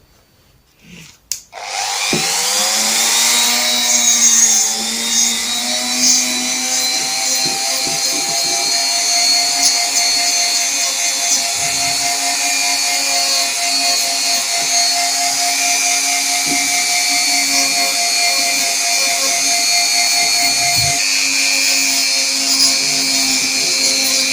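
A power tool whines up and runs continuously, a steady high-pitched grinding drone with slight wavering, loud and close throughout, as metal is ground and cut during a repair on a Subaru.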